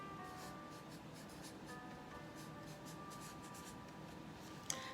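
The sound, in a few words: writing on a sheet of paper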